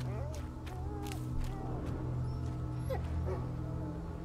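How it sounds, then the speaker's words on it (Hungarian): In the video game A Plague Tale: Innocence, a dog whimpers and whines in rising and falling cries, with a few short yips, set against a low ambient rumble and faint voices. "Ó, de még hallom a kutyát."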